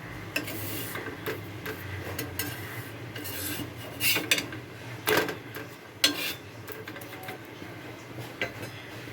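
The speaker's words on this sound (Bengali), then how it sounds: "তেল দিয়ে এটাকে ভেজে নেব।" A stuffed roti pocket frying in a little oil on a hot pan, with a soft steady sizzle broken by scattered scraping and clinking of a spatula, close and without talk.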